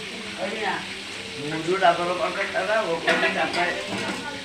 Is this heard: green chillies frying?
yes